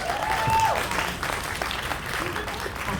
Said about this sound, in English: Extra claps for that.